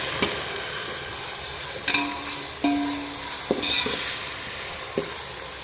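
Tomato frying in a pan with mustard seeds, onion and ginger-garlic paste for a beans palya, a steady close sizzle with several short stirring scrapes and clinks of the spatula.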